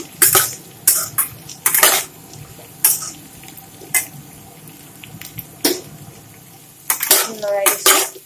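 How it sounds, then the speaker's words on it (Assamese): A metal spoon clanks and scrapes against a pan while brinjal is stirred with fried fish intestine, sharp irregular knocks in clusters over a faint frying hiss, with no talk. "এতিয়া মই ইয়াতে বেঙেনাখিনি দি দিম, আৰু এইখিনি ভালদৰে লৰাই দিম।"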